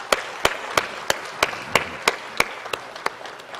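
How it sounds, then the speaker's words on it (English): Rhythmic applause at a mediation symposium in a Port of Spain ballroom: a crowd claps together in a steady beat of about three loud, evenly spaced claps per second over a softer wash of scattered hands. "I think we owe these gentlemen another round of applause"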